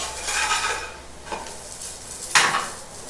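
A sandwich toasting in a frying pan while a metal spatula presses it down: scraping and light clattering of the spatula against the pan, with a faint sizzle and a sharper scrape near the end, no voices.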